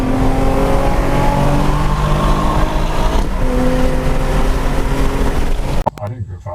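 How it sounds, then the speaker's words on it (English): A BMW with a loud exhaust accelerates past on the road, a continuous roaring engine and exhaust drone that stays loud throughout before cutting off abruptly at the end. "There was a BMW that whizzed by. Didn't you hear his loud exhaust?"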